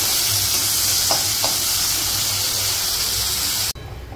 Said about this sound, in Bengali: চিংড়ি মাছগুলো ভেজে